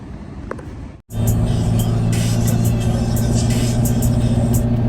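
A C5 Corvette engine idles close by, a loud steady rumble with a strong low drone that starts abruptly after a brief moment of quieter background and holds evenly without any talking.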